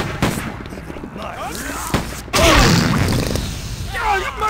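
Gunfire in the Stubbs the Zombie zombie video game, with several sharp shots and a loud sustained barrage from the middle onward, mixed with game noise and voices.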